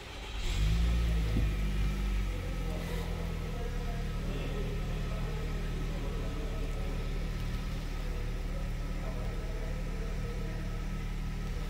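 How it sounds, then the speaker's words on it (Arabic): A 2024 Mitsubishi Outlander Highline is started with its push button: the engine catches with a brief loud surge, then settles into a steady, even idle that runs on with no talking. "أسمعكم الآن صوت تشغيل الأوتلاندر، طبعا تشغيل السيارة عن طريق هذا الزر"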